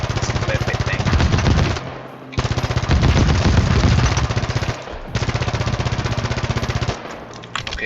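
Rapid automatic weapon fire in the Halo 5 video game, loud sustained bursts of machine-gun shots lasting a couple of seconds each, separated by brief pauses, with no talk over it.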